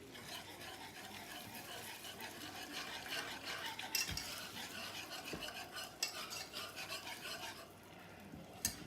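Milk is whisked into melted butter in a pan, making a quiet, continuous rapid scraping and swishing with a few light clinks, close and faint, with no talking.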